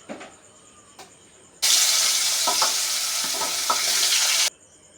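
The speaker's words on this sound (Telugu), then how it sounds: "ఎండు చేపలు ఇలాగ ఆయిల్లో వేగించుకుంటేనండి" Dried fish dropped into hot oil, a sudden loud hissing sizzle that holds steadily for about three seconds with a few stirring knocks, then cuts back to a quiet background.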